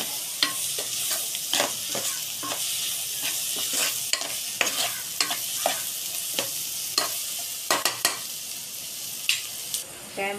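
Spices with coriander powder sauté in hot oil for dal tadka, a constant sizzle broken by repeated scraping and stirring strokes of a spoon against the pan, close and clear.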